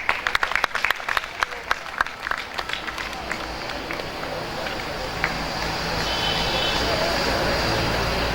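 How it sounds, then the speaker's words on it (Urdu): Audience applause at an arts council stage programme: loose clapping during the first few seconds, then fading into a hum of crowd noise and room rumble. "بہت ساری تالیاں."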